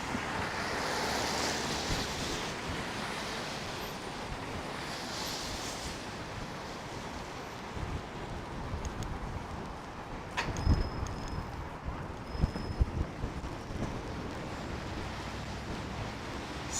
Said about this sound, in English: since here it's windy.